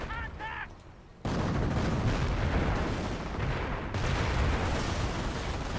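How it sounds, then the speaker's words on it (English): A 280mm rocket barrage slamming into Axis troops in a war video game: dense, continuous roaring blasts and rumble that surge in abruptly and rise again later, loud and close. "It's like 280mm rocket barrage goes down for the Axis."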